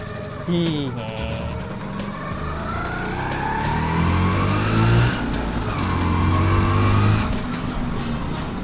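A vintage Vespa SS90 scooter engine idles and putters steadily, revving up and down, with people talking over it throughout.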